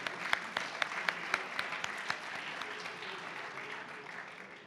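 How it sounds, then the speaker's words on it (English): An audience at a postage stamp unveiling ceremony applauds committee members and sponsors, several crisp nearby claps over a broad steady wash of crowd clapping that gradually thins out. "Let's give them all a warm round of applause."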